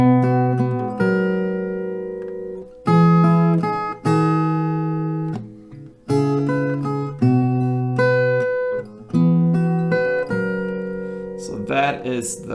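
An acoustic guitar plays the melody of a song, starting on G, as clear plucked and strummed phrases with short pauses between them.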